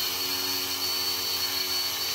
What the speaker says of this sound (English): I'm going to drill it a little deeper.